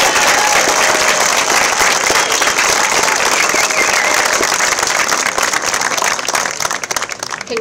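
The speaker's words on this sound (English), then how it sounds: "May we please have one more round of applause for all of our 5th grade students." Sustained, loud applause from a school audience celebrating 5th grade students at a moving-up ceremony, dense clapping filling the room steadily and tapering slightly at the end.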